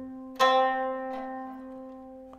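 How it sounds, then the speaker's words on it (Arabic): A qanun playing C natural: one string is plucked sharply and rings on, with softer re-plucks of the same note after about a second and again near the end, close and unaccompanied. "والدو البيكار او الناتورال اسمها او صوتها عامل كده"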